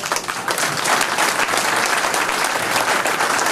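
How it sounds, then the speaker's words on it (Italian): An audience applauds steadily at a conference on Trallalero singing, a dense, sustained wash of clapping close by with no talk over it. "Un applauso."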